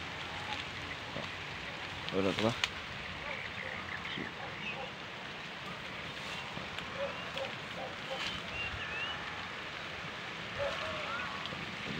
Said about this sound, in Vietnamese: Trời đang mưa ấy.